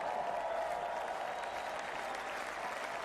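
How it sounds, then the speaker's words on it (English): Sustained applause from a large crowd at a political rally, dense and steady throughout, with a broad wash of clapping and no clear talk over it. "look at these crowds"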